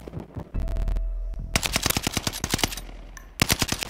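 Sustained suppressing machine-gun fire in a squad shooter game rattles off in rapid, punchy bursts, close and loud, with a short lull before another volley.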